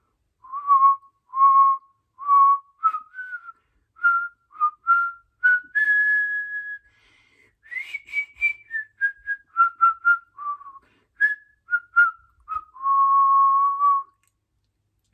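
A person whistles the melody of Row, Row, Row Your Boat alone, clear and close, with a steady run of short pitched notes, a few held tones and brief pauses between phrases.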